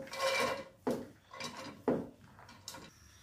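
Three kilograms of grated carrots for gajar ka halwa tipped into a metal pan, a few separate scraping, clattering scoops with soft rustling between them, fairly quiet and close.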